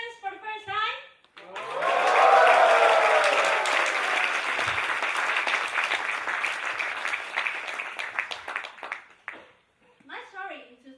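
Audience at a district-level stage contest applauding and cheering contestants, a loud sustained wash of clapping lasting several seconds, bracketed by a speaker's voice before and after.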